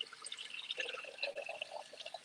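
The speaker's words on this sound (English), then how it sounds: "So I'm forced to drink from the water hose." Water splashing and trickling from a garden hose outdoors at a rural sanctuary, a steady soft pattering flow at modest, close range with no talk.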